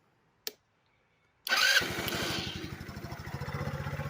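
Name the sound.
150cc GY6 scooter engine starting and running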